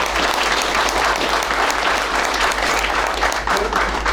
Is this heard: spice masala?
no